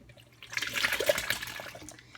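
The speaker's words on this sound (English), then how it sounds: "dump all your beans in there." Beans and their cooking liquid poured from a pot into a strainer set in a bowl for crockpot refried beans, a moderate watery splash and gurgle lasting about two seconds.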